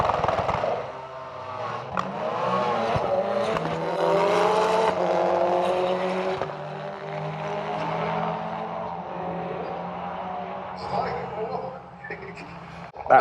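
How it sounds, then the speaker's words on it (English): Doorslammer drag racing cars at Santa Pod Raceway, including a Ford Fiesta, heard as loud engines with rising and falling revs, a long high-revving pull through the middle, and a voice talking over them. "Unfortunately, the Fraudster is a lot quicker than Chris's Fiesta, but good to see them both running in the same race."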